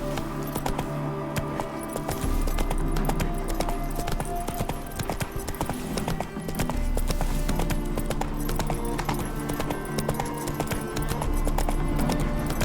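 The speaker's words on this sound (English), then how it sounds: "Spooking my horse. Roach doesn't like ghosts." Horse hooves clip-clopping steadily in The Witcher 3 video game, rhythmic and close, joined by jangling tack and a brief whinny, with game ambience underneath.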